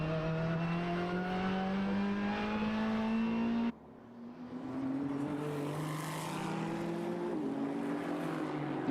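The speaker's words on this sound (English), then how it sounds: "The Ferrari wails its way down the back straight here in Okayama." A Ferrari GT race car's engine wails at high revs down the back straight at Okayama circuit, a loud rising drone that briefly cuts off for an upshift before climbing again under a steady onboard roar.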